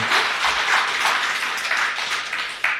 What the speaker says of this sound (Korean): 응원의 박수 한번 보내주시면 감사드리겠습니다